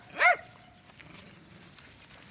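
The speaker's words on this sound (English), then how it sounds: "I know, there's a dog." A dog met on a walk gives one sharp, fairly close yelp or whimpering bark, followed by quiet outdoor ambience with faint scattered noises.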